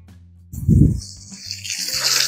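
Tap water runs into a container holding Thrive liquid tree fertilizer, starting with a low gush and settling into a steady hissing fill that grows brighter as the level rises, close by and without talk.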